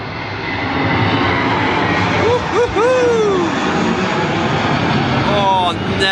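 Passenger jet taking off at Gibraltar airport, a loud steady engine roar filling the scene with rising whine tones, heard close under light talk from a nearby person.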